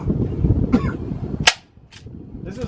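Suppressed .22 rifle shots fired through a Yankee Hill Phantom 22 suppressor at an outdoor range, a few sharp cracks spaced apart, one especially loud and close, over low background rumble.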